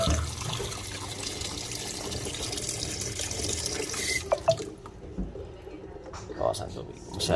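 Water runs steadily from a kitchen tap for about four seconds, then cuts off, leaving drips and clinks of dishes while people talk nearby.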